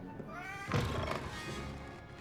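Pet cat meowing near the listener at home, one short rising meow followed by a louder, longer meow, with a soft thump and faint background noise.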